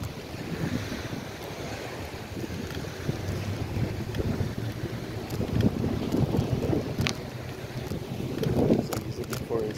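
Offshore wind gusts buffeting the microphone at Fort Myers Beach, Florida, a steady broadband rush with surges, layered over lapping surf and faint voices nearby.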